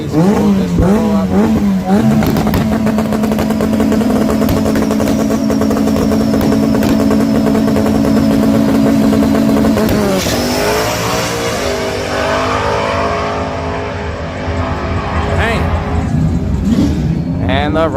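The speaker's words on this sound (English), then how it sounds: "this Turbo Honda will put air in those tires as he does his thing. Going down the track" A turbocharged Honda drag car launching and running down a drag strip, its loud high-revving engine holding a sustained roar before shifting and fading while crowd or track noise continues, with someone talking over it.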